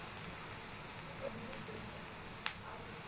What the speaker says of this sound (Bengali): আদা রসুনটা একটু তেলের সাথে ভেজে নেব।